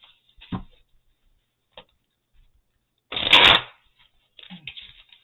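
Tarot cards are shuffled close up in bursts: a few short riffles and taps, then a dense, louder flurry in the middle and a softer patter at the end.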